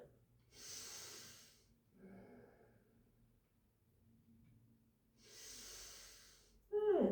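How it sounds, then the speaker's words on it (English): Slow, deep yoga breathing: two long airy inhales or exhales roughly four seconds apart, close and soft, with quieter breath between and a brief louder rustle at the end. "4 deep breaths in and out, breathing from tailbone to the crown of your head."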